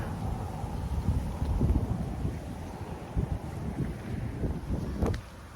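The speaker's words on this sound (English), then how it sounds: "It's getting really windy." Strong, gusty wind buffets the microphone outdoors, a steady low roaring rumble that swells in several surges and drops off briefly near the end, with no voices.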